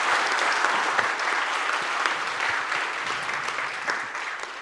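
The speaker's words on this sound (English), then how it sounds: "I think that deserves a big round of applause" A seminar audience at an astronomy talk breaks into loud, sustained applause, dense clapping from many hands that holds steady and then eases slightly toward the end, with no voices over it.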